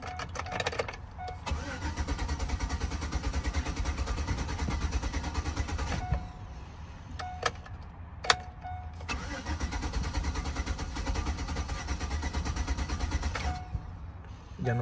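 A car engine cranks and catches, runs roughly, then cuts out and restarts, with starter whirs and idling stretches in a garage setting while a throttle body and sensor reference voltage fault is checked.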